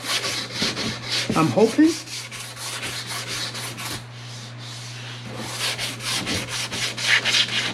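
Primer on a car part from a 1985 Mustang notchback coupe being sanded with 220-grit sandpaper, rhythmic close-up rubbing strokes in repeated bursts, with a short spoken remark.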